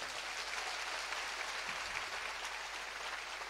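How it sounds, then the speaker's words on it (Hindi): Sustained applause from an audience at a Catholic youth meet, honouring a guest's father, steady and fairly quiet throughout with no one speaking over it. "इनके पिताजी के लिए एक बार जोरदार ताली मारें"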